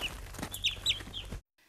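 Day-old baby chicks mailed in a box, giving a few close, bright chirping and clucking calls over a steady low hum before cutting to near silence.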